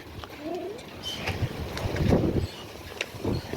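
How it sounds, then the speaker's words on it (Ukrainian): Gusty wind roars and buffets the microphone in a steady, rumbling rush, with a faint chirp in the background. "Ой, вітер такий, що з ног здуває."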